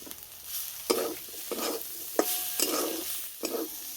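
Pumpkin greens and potato frying in a pan without water, a close sizzle broken by regular rhythmic strokes of a spatula stirring and scraping, about six in four seconds.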